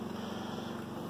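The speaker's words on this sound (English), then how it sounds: "when you plug in or start a generator up" A Predator portable generator runs in a steady, low, droning hum, fairly quiet and unbroken, with no voices over it.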